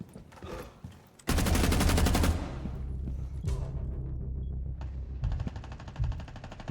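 Rapid automatic gunfire in Rainbow Six Siege, a loud sustained burst followed by a second volley later, with quieter in-game clatter and movement between them and no talk.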